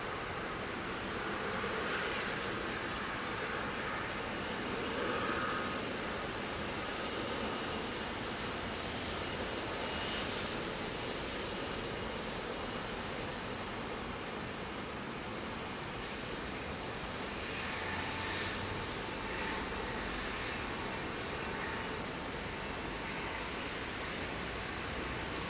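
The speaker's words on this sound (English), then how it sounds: "Now listen to these lovely old Pratt & Whitneys." Old Pratt & Whitney jet engines roar steadily at Heathrow runway 09R, a broad, continuous close-up rumble and hiss that holds without pause throughout.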